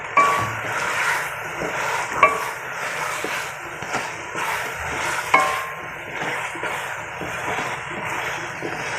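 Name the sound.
meat frying and being stirred in a pan for chicken karela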